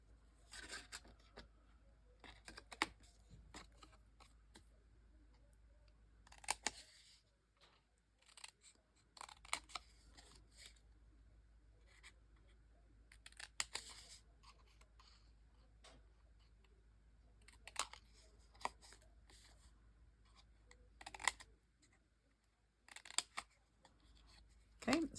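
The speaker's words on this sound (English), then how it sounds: "Cut up on that score and taper those tabs." Scissors snip through craft paper along a scored line, tapering small tabs, in repeated bursts of crisp cuts separated by short pauses, close and fairly quiet with no talking.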